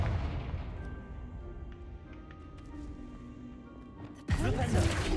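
A Confringo blast spell from a Hogwarts video game erupts as a sudden loud burst, breaking in near the end after a stretch of steady background game ambience and music.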